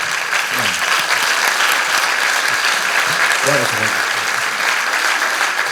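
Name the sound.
audience applause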